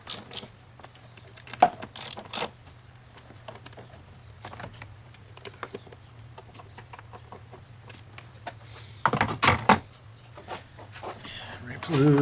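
Ratchet tightening the throttle body bolts on a 2011 Ford Fusion SEL 3.0L, giving scattered short clicking bursts over a low steady hum, with louder clustered clicks near the middle and end.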